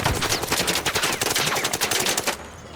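Rapid bursts of automatic gunfire in the video game ARC Raiders, aimed at a surveyor robot: loud, close shots in quick succession, running continuously and then stopping abruptly just before the end.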